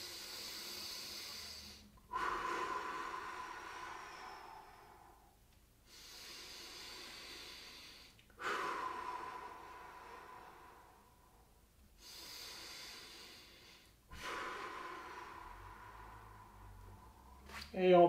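Slow, deep breaths during a gentle stretching exercise: three long cycles of inhaling and exhaling, soft and close, each breath a drawn-out airy hiss followed by a brief pause.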